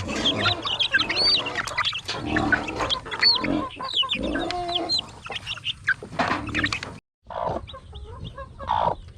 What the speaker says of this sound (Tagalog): yan na po yung ating mga native chicken